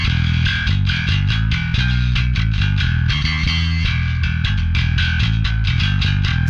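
A bass guitar runs through the Aurora DSP Mammoth plugin on its Lemur preset, playing a loud, distorted riff of rapid rhythmic notes with heavy low end and no talk.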